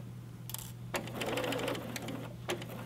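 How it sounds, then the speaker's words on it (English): A sewing machine stitches a fabric face mask in short bursts, its needle clattering quickly and close by with brief pauses between runs over a steady low hum. "You can either sew off the end or sew just one stitch in."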